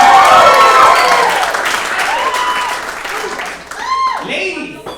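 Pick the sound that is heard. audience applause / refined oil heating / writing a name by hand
audience applause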